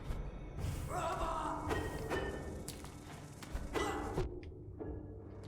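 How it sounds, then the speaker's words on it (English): A sudden explosion goes off in the video game Hollow Knight, bursting out after a run of heavy thuds and impacts and then cutting to near silence. "When you turn the corner, there will be an explosion."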